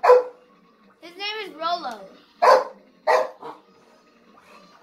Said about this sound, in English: Hey guys, we have a dog.